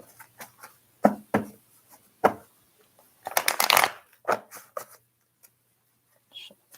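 Tarot cards are shuffled in close, crisp bursts of riffling and slapping, with soft gaps between the strokes and a longer flurry in the middle.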